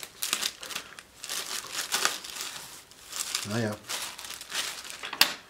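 Thin plastic bag around a budget edge router crinkling and rustling in repeated bursts close to the mic while it is torn open, with a person speaking briefly partway through.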